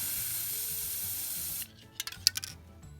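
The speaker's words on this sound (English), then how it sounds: "turn the can upside down and spray it until it's clear." A spray paint rattle can held upside down hisses in a steady, fairly loud burst for about a second and a half, then cuts off, leaving a few faint clicks and small sounds afterward.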